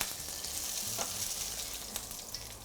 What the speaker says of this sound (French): quand ça commence à bien crépiter, là, à bien frémir, c'est que c'est bon